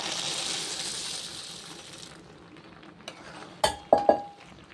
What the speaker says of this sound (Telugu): ఇందులో ఇప్పుడు మనం పల్లీలు వేసుకుందాం